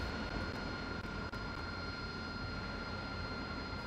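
An AV-8B Harrier jet engine in DCS World settles at idle RPM after the water injection switch is turned off, a steady, fairly quiet whine and rumble with no talk.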